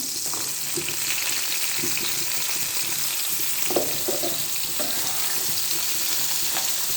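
Bitter gourd slices fry in a hot pan with a continuous, close sizzle and crackle, and a few brief clatters and stirring knocks break through the frying noise.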